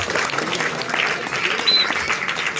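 An audience at a Balinese comedy performance applauds the pecalang (traditional village security), a brief burst of clapping with crowd noise and some voices mixed in.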